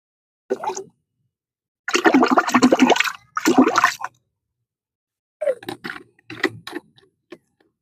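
A plant nutrient solution is stirred in water, giving close, splashy sloshing bursts separated by silent pauses, with sharper little clinks and swishes near the end.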